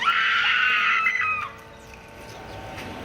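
Men scream together on a fast thrill ride in New Zealand, a loud burst of shrieking for about a second and a half that then drops away into open outdoor noise.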